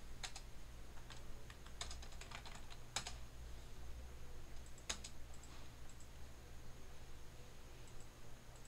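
Java code being typed on a computer keyboard, with scattered bursts of key clicks, some quick and clustered and others spaced apart, heard close up over a steady low background hum.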